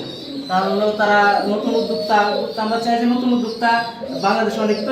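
Lahori and Sirazi pigeons coo in repeated throaty bursts beneath a voice, the calls rising and falling in a steady rhythm up close.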